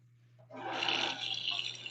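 Tap water runs while a paint brush is rinsed, a close, steady splashing rush that starts abruptly after a quiet hum and continues to the end.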